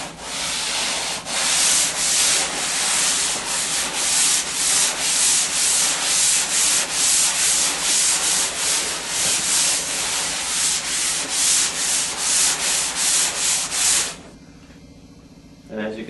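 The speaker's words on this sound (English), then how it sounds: "very careful not to sand too deep into the textures underneath" Skim-coated drywall surface being hand-sanded over texture, a loud rhythmic scratchy rasp in steady back-and-forth strokes, about two per second, that stops abruptly near the end.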